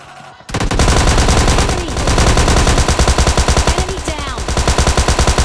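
Rapid automatic gunfire from PUBG Mobile Lite bursts in suddenly and continues as dense, loud, rhythmic shots with short pauses between the bursts.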